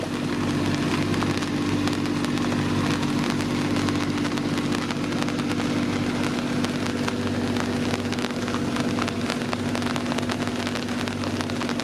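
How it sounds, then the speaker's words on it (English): Steady rain hisses on the surfaces of a sailing boat, a dense continuous patter with a low hum underneath. "I guess it's raining."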